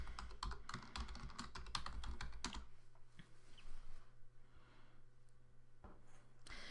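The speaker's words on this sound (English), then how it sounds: "type in your email address and your password" Rapid clicking keystrokes on a computer keyboard as login details are entered, a dense burst of close typing in the first few seconds, then a quiet room hum with a few stray clicks.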